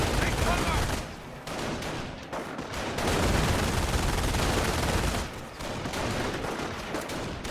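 Machine gun fire in a real-time strategy game match, dense continuous bursts of rapid gunfire and battle noise, loud throughout with brief dips in intensity.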